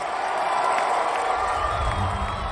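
An excited crowd of investors cheers at a OneCoin cryptocurrency promotional event in a London hotel, a dense, steady roar of voices and whoops filling the room at close range without pause.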